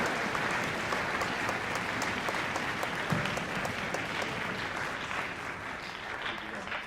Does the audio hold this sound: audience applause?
yes